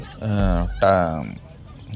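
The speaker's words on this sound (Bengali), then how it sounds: "তো চাইলে এখান থেকে আপনারা এরকম দেশি মুরগি নিতে পারেন।" Desi chickens at the Bantala bird market in Kolkata give two loud, close, drawn-out calls in quick succession, like a short crow, with market noise around them.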